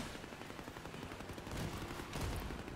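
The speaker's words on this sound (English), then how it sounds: "Oh, my turrets are still shooting him." Rapid automatic gunfire from video game turrets shooting at an enemy, a dense continuous rattle that swells louder toward the end of the short burst.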